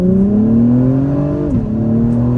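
A 2021 Acura Type S pulls away from a stop in first gear, its engine droning loudly and steadily with pitch climbing, then briefly dipping near the midpoint before rising again, close and continuous with no voices.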